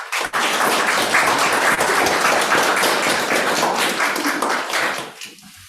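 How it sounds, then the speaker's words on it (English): Dense, sustained applause from a university sociology conference audience for three presenters, steady and full for about five seconds before tapering off abruptly. "give them another round of applause"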